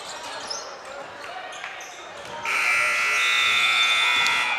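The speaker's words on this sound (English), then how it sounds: "And that is the buzzer ending our third quarter." A sustained electronic buzzer sounds at a boys' junior varsity high school basketball game, ending the third quarter; it cuts in partway through over gym crowd noise and holds steadily, loud and bright.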